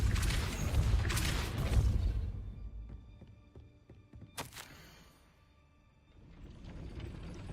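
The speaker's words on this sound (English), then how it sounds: "That looks as if it might raise the gate." A stone gate mechanism in Hogwarts Legacy cranks upward with a regular series of ratcheting clicks and thunks, a sharp clank partway through, and rumbling ambience before and after.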